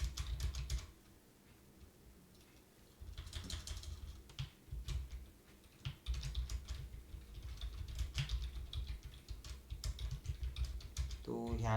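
Rapid keystrokes on a computer keyboard while entering HTML text, coming in close clusters with brief pauses between bursts, and a voice talking over parts of it.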